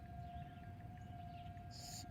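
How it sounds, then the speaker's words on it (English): A tornado warning siren sounds during a test in Grosse Pointe, Michigan, a steady distant wail holding one pitch throughout, with a brief higher tone near the end and no talking. "the siren is still going off right now."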